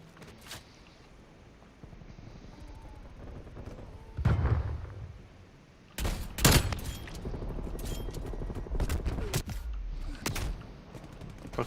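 Shotgun blasts and other gunfire in Call of Duty Cold War multiplayer, sharp loud reports scattered irregularly, heaviest in a dense flurry from about midway on, over background game noise.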